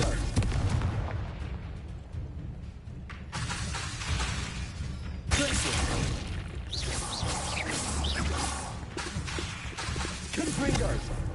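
Hogwarts Legacy's Confringo blasting curse sets off booming, crackling blasts over a steady rumble of game noise, with a sharp burst near the start and another a few seconds later, while a voice talks over the action.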